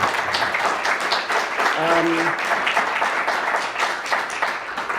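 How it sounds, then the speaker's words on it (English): An audience applauds Governor Michael Dukakis at a peace and security award conference, a steady, fairly loud wash of clapping throughout, with voices and a brief tonal sound mixed in near the middle. "we are applause Governor Michael Dukakis"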